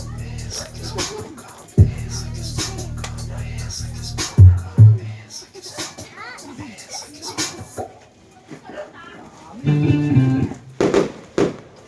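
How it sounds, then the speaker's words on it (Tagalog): Fireworks at a birthday party: sharp bangs and crackling pops burst out at intervals, some loud and close, with people calling out and talking excitedly between them. "Uy, fireworks! Wow!"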